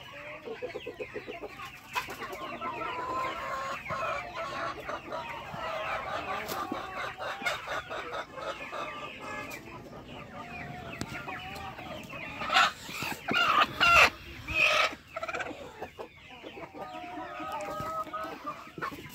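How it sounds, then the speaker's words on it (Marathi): Black Australorp chickens on a poultry farm cluck and murmur continuously. A rooster crows loudly near the end, mixed with faint background talk. "आपला ब्लॅक ॲस्ट्रोलॉप जातीचा कोंबडा आहे"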